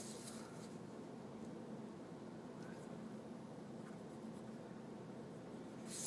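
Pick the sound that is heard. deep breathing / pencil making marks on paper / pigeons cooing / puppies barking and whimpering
pencil making marks on paper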